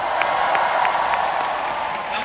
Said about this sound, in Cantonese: 可唔可以俾啲掌聲 Jenny 啊？